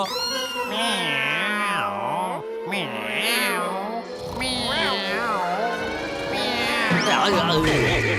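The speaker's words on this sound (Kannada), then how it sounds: "ಎಸ್ ಲಕ್ಕಿ, ಬೆಕ್ಕು ನಮ್ಮನ್ನ ಇಲ್ಲಿ ತಗ್ಲಾಕಿದೆ." A cartoon cat gives repeated wavering meows that sound voiced by a person, with animated characters talking among the cries.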